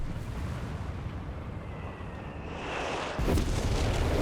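Artillery fire in the strategy game Company of Heroes 3 lands on British positions. A low rumble builds, then a heavy, close boom bursts out near the end and keeps rolling.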